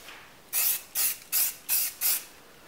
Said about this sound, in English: Now, typically I'll spray it down, let it dry, and I'll look it over, look at any imperfections.